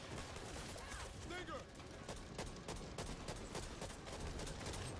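Rapid, steady gunshots in the Back 4 Blood video game ring out at moderate volume over dense ambient game noise, with a voice talking faintly underneath.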